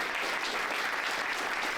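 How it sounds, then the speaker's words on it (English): Audience applause at a hackathon, a dense steady roar of many hands clapping together, loud and sustained throughout with no talking. "Can we get a round of applause for Fetch AI, Code and Copy, and the engineers of architects,"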